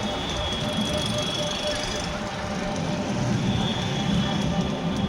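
A tuk-tuk auto rickshaw rumbles along a city street in Nepalgunj, a steady close engine drone and road noise with some high-pitched squeal, while people talk over it.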